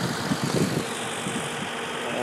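A 2000 Audi A8 engine idles at steady low volume, a constant hum with faint mechanical texture and brief low pulses near the start, no one talking.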